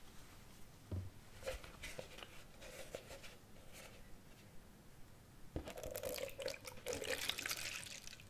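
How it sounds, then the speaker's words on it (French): Milk poured into clafoutis batter in a home kitchen, a quiet liquid pour with soft drips and a few clinks, swelling into a steadier, louder stream near the end; no talking. "je vais rajouter 25 centilitres de lait"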